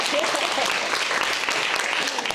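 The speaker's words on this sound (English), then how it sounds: "let's please give a round of applause to Ms. Deborah Hendricks over here" Audience applause at a Black History teach-in event: steady, dense clapping throughout, fairly close and continuous with no talk over it.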